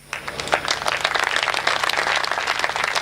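Audience at a Hindi poetry recital breaking into applause, dense steady clapping that starts suddenly and carries on loudly to the end.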